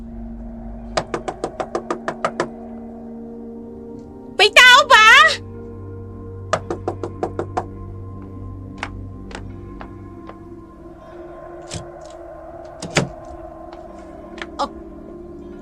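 Knuckles rap on the door of a small hut in two quick rounds of sharp knocks, close and loud, with shouting and a called-out question around them, then scattered taps later.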